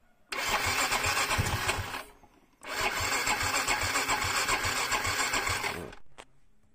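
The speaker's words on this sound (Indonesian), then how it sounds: "hidupkan mesin motornya" A motorcycle engine starts and runs loudly close by, revving steadily, cutting out briefly, then restarting and running again before stopping, with no talking.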